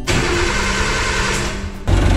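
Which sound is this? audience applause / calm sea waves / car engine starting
car engine starting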